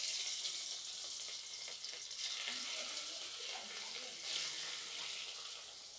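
Rohu fish frying in hot oil, village-style cooking, a soft, constant hissing sizzle with faint crackles running throughout at low volume.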